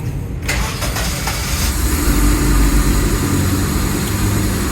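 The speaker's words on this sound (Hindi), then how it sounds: "अभी हम इसको स्टार्ट करने लगे हैं।" The engine of a 2008 Suzuki Liana cranks and catches after a full restoration, then settles into a loud, rough idle with a steady low rumble close by.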